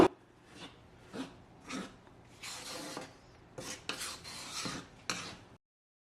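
Dry scraping and rubbing strokes as all-purpose flour is stirred while dry-roasting, a few slow single scrapes then quicker bursts of gritty stirring against a pan, close and fairly quiet, ending abruptly.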